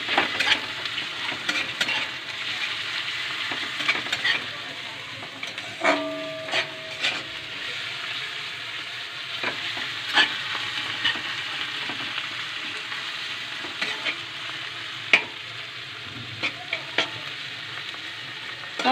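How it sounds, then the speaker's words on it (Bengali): Ginger and garlic paste with green chillies sizzling in hot oil in a Bengali kitchen, a steady frying hiss broken by scraping stirs and occasional clinks of a utensil against the pan. "আদা রসুন আমি একসাথে দিয়ে দেবো। আমি একটু ভালো করে ভেজে নেব।"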